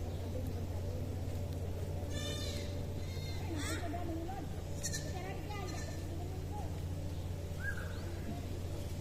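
Goats bleat a few times at a moderate distance over a steady low hum, with people talking and children's voices in the background.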